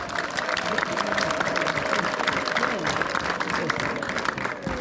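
A church congregation clapping for Jesus, steady crowd applause filling the space from start to finish, with voices and a speaker talking over the clapping.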